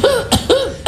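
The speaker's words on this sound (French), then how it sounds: "pourquoi tu tousses?" A man with asthma coughs three times in quick succession, close and fairly loud, with harsh raspy bursts and no talking.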